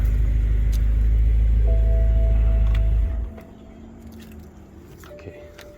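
A BMW F10 M5 sedan shuts off: a loud, steady engine rumble idles for about three seconds, then cuts out abruptly, leaving a quiet cabin with faint clicks and a soft electronic tone.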